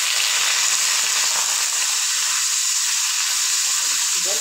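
Dried gagla fish and garlic fry in hot oil with a loud, steady sizzling hiss that stays close and even throughout, with no pauses.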